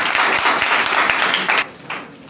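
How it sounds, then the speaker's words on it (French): An audience at a student election event applauds a young man with a burst of steady, brisk clapping from a sizeable crowd, which fades near the end, leaving a single louder clap. "J'aimerais demander au public présent de l'applaudir très fort pour ce jeune homme."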